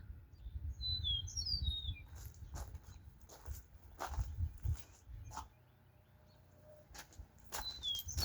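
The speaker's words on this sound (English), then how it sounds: "Those birds." Songbirds chirp in short high bursts outdoors near an old water mill, scattered across the scene over low rumbling background noise and occasional footsteps.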